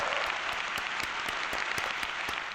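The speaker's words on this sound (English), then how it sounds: "That's one where I have to give a round of applause." A brief burst of applause with a dense wash of clapping and a few sharper individual claps standing out, fairly loud and continuous.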